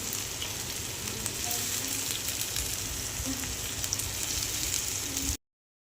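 Bread pakoda frying in hot oil, a steady dense sizzle and crackle that holds at an even level throughout before cutting off abruptly near the end.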